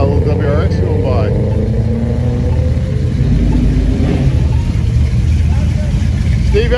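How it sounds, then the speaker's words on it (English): A Subaru WRX rolls past on a historic main street during a car roll-out event, its engine a low steady rumble amid loud crowd chatter and nearby voices. "Ah, a little WRX going by."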